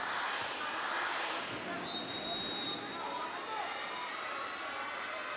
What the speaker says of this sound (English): just listen to this crowd cheering on their captain